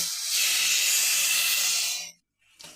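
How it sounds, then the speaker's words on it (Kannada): Half a glass of water hits jaggery in a hot pan, giving a loud, steady sizzling hiss of steam for about two seconds that cuts off abruptly, followed by a brief faint hiss. "ಇದಕ್ಕೆ ಅರ್ಧ ಗ್ಲಾಸ್ ನೀರ್ ಹಾಕ್ತಾ ಇದ್ದೀನಿ"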